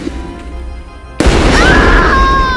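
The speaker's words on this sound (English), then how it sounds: "Those cannons again." A cannon fires in a mock battlefield scene: a sudden heavy boom after a second of low rumble, followed by a sustained roaring tail and a rising whistle-like tone, loud and close.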